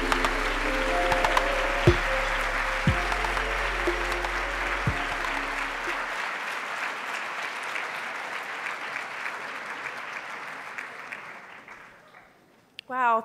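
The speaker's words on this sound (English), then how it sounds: "Let's give another round of applause." An audience applauds after a talk at a conference session, with sustained clapping that starts loud over a low hum, then gradually thins and fades out near the end.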